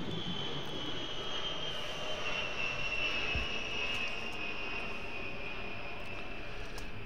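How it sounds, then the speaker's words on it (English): A fixed-wing airplane passes overhead with a steady, continuous engine drone and a high whine, holding at an even level throughout with no talking. "Pardon the noise of an airplane flying over."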